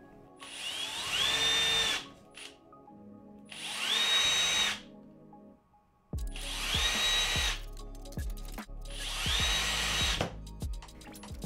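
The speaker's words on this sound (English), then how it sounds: "we're gonna start on our M5 drills and taps" A power drill bores M5 holes during assembly of a Turtlebot3 Waffle Pi robot upgrade kit: four separate whining bursts, each about two seconds long with a pitch that climbs and holds. The later bursts carry heavier low rumble and knocks.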